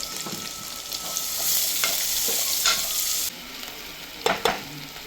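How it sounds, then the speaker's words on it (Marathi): Finely chopped onion sautéing in a pan for a dal and ridge gourd dish, a steady bright sizzle with occasional spatula stirs and scrapes, close and fairly loud with no talking. "चांगला परतून घ्यायचा आहे कांदा."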